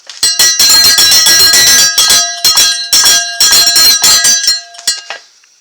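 A bell rings over and over in quick, loud, close strikes, its bright metallic tones overlapping before fading out at the end.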